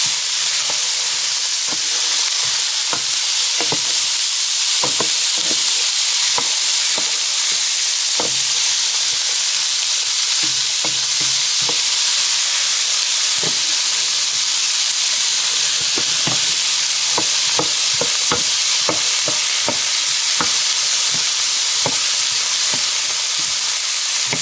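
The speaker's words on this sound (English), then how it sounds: "The parsley. Stir that really good." Parsley stirred into pasta fagioli in a hot pan, a loud continuous sizzle and hiss with repeated spoon taps and scrapes against the pan throughout, and no one talking.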